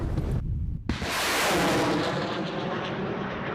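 A loud, sudden blast of a truck-mounted rocket artillery launcher firing cuts in after a brief quiet, followed by a long roaring whoosh that slowly fades.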